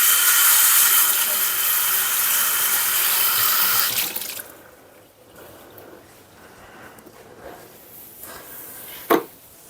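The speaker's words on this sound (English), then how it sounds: "So I'm just gonna rinse this out." A running kitchen tap rinses out a container, the water gushing loud and steady for about four seconds before shutting off, followed by quiet handling noises and a sharp knock.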